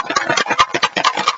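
Easter eggs shaken in a plastic Tupperware tub make a loud, close, rapid rattle of knocking and clattering with irregular bumps throughout, alone without talk.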